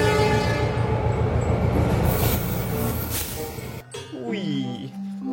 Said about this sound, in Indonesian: Kita jalankan satu persatu kereta apinya.